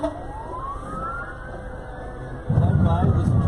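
A fire truck siren wails with a rising sweep in a Halloween parade, then heavy engine rumble and horn blasts join as the Centralia fire trucks pass close by, with crowd noise around.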